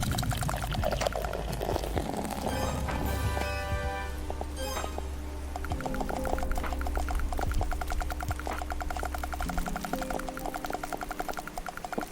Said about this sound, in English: That's what I call an aggressive pour.